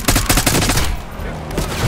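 Automatic gunfire in Call of Duty Black Ops 6, a loud, rapid stream of close shots in a tight rhythm for about a second, then a rumbling tail.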